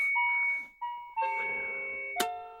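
Dial-up modem for a Commodore 1581-era setup switching on and sounding its carrier: a few short steady electronic tones stepping in pitch, ending in a sharp click with a sustained tone, moderately quiet and with no speech.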